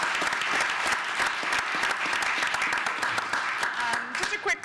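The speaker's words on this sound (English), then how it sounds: "So he deserves a round of applause as well." Audience at a city council meeting applauding a co-advisor, a steady, fairly distant patter of many hands with individual claps standing out, and a voice emerging briefly near the end.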